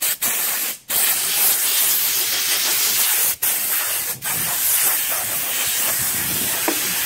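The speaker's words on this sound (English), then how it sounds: "we just give it a little blow off" A compressed-air nozzle blows dust off a sanded styrofoam prop in a continuous loud, close hiss, broken by a few brief pauses.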